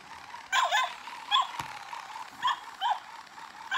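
Several short, high squeaky whimpers from a dog come in small bursts, with brief quiet gaps between them against a faint background hiss.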